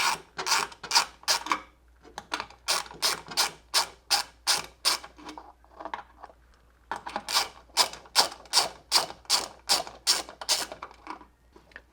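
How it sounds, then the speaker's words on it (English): A socket wrench ratchets on the bolts of a laser X-rail on an Epilog Fusion Pro laser engraver, steady runs of sharp, close clicking strokes in two long sequences separated by a brief pause, no talking. "I'm going to use a socket wrench."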